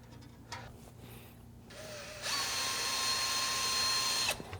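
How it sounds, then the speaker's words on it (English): A power tool fitted with an eraser wheel whines at high speed against a Harley-Davidson Bad Boy fuel tank, spinning up after some light handling noises and grinding steadily for about two seconds before stopping. "Use that eraser wheel, get this thing cleaned up."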